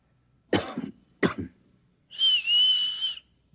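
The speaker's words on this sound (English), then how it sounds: "Look, I'll cough twice, like this. And you whistle back." Two sharp coughs a moment apart are answered by a single sustained whistle, each sound clear and close against a quiet background.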